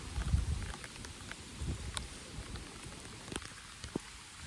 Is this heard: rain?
yes